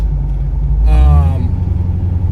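A modified Porsche 928 cruising on the road, its engine a loud low steady rumble with a brief rising rev in the middle, a voice talking over it.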